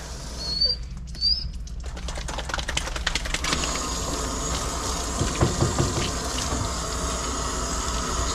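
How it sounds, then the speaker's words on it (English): Plain water splashes and pours while rinsing a Basset Hound's coat during a bath, a close, continuous spattering wash after a few soft flutters, with no talk. "And then we're gonna rinse."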